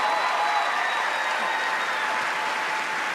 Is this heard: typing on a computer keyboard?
no